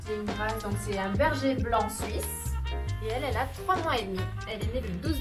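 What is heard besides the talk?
No everyday noises stand out.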